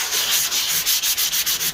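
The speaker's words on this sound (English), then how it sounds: "I'm just sanding back here because obviously that's where all that rust was there" Hand sanding of rusty bodywork back to flat metal on a Mk3 Volkswagen Golf GTI under restoration, heard as loud, close, rapid back-and-forth abrasive strokes in a steady rhythm with no talking.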